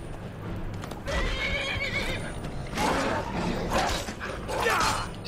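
A horse in the video game Skyrim whinnies over steady clip-clopping hooves and creaking, with a second neigh later, moderately loud against a constant game background.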